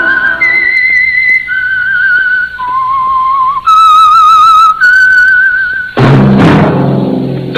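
A loud, clear whistled tune rises and falls in held notes, ending with a harsh blast of noise.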